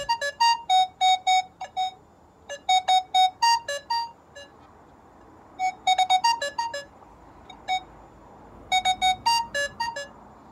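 Rapid bursts of high electronic beeping tones from a Nokta Makro Legend metal detector set to its fastest recovery speed, coming in three clusters separated by short quiet gaps.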